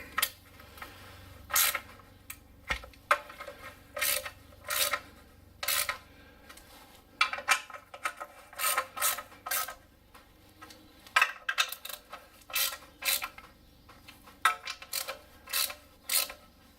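Hand ratchet snugging transmission pan bolts on a Toyota Corolla with an A240L gearbox, close bursts of quick clicking strokes separated by short pauses, with no talk.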